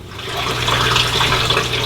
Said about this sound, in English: Okay, we're adding water